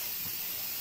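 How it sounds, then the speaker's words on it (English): Steam hisses in a steady broadband stream from a Nesco smart canner during water bath canning of peppers. The hiss is continuous and close with nothing else heard over it. "You can hear there's still steam coming out."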